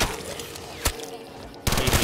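AK rifle gunfire in Black Ops 3 custom zombies, a Minecraft-themed gun game, with a sharp single shot followed later by a loud burst of rapid automatic fire against busy game sound.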